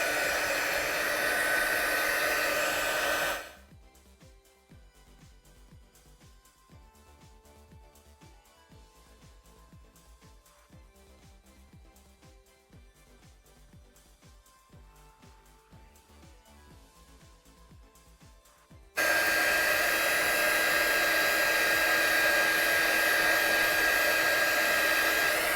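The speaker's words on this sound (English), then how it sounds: "I'm just going to heat it off just to ensure it's" A heat tool drying a stamped, watercoloured card, a loud steady blowing roar that cuts off after a few seconds, leaving a quiet room with faint shuffling, then switches back on for the last stretch.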